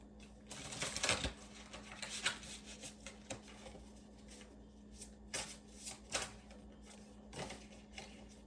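A deck of Shaman's Dream oracle cards is shuffled up close in repeated riffling bursts of crisp card noise, with short pauses between them.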